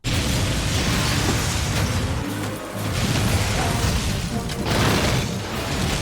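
A loud, sustained film explosion of a building set on fire, with a rumbling low roar and crackling debris that persists throughout, briefly dipping before swelling again.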